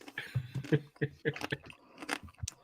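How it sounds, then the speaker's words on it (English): Ice cream with a crunchy coating is bitten and chewed right up against the microphone, giving a string of close, wet crunches and munching sounds with faint voices in the background. "Can you get that ice cream closer to the mic? We want to hear the crunch."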